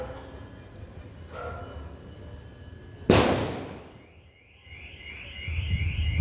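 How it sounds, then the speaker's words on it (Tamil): A single loud firecracker bang goes off close by, set off at a nearby church to scare monkeys, and its crack decays over about a second amid faint outdoor background noise. "வெடி வைக்கிறாங்க"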